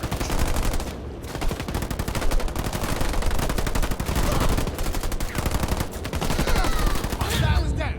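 Dense automatic machine-gun fire and gunshots from units attacking enemies in Halo Wars 2, loud and continuous battle noise with brief lulls throughout.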